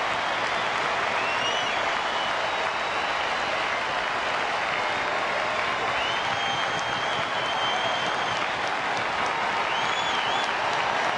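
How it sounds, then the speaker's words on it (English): A Fenway Park baseball crowd stands cheering and applauding, a loud, steady wash of clapping and cheers that holds unbroken the whole time, with whistles faintly above. "this Fenway Park crowd stands as one"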